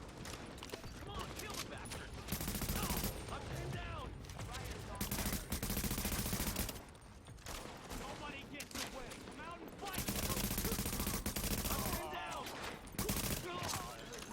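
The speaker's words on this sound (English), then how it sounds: "So you get into some pretty nasty firefights throughout the game." Heavy gunfire in a firefight from Tom Clancy's The Division on Xbox One/PS4, with dense, sustained bursts of rapid automatic shots filling loud stretches that break into shorter, quieter gaps.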